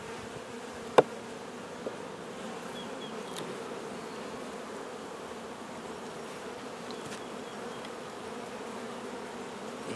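Honey bees buzz steadily around an open, honey-bound double-deep eight-frame hive, making a continuous, fairly quiet drone with a couple of faint clicks and no talking.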